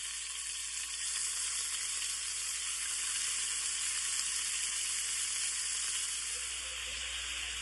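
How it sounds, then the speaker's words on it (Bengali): Marinated chicken fries in white oil with a loud, even sizzle and hiss that holds steady from start to finish. There is no talking. "এই মাংসটাকে আমি এবারে সাদা তেলে ভেজে দেবো।"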